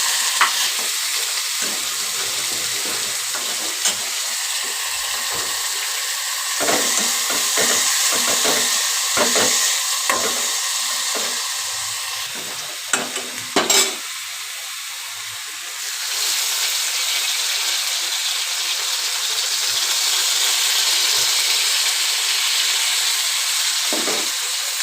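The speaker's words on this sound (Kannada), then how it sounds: "ಇದು ಸೊಪ್ಪು ಹಾಕ್ತೀನಿ." Leafy greens frying in a hot pan, a loud, close sizzle with stirring scrapes and hissing steam that drops away and returns, with no voices.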